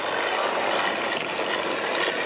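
Fieseler Fi 156 Storch engine and propeller at Duxford Flying Legends airshow, a steady, loud droning roar close by, with no voices.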